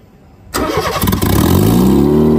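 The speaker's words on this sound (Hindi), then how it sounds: "आप लोग देख सकते हैं इंजन अब हमारा बिल्कुल स्टेबल हो चुका है।" A car engine, part of an FX project car build, cranks and catches, then settles into a loud, steady idle close by, with no talk over it.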